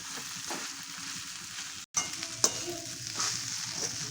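Flattened poha being stirred and tossed into fried onions in a pan, with scraping spoon strokes over a steady sizzling hiss, a brief silent gap midway, then continued mixing.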